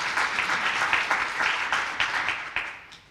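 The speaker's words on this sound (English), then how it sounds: "That does deserve some applause." An audience applauds steadily at a community consortium welcome event, many hands clapping together in a warm, even wash that gradually fades out near the end.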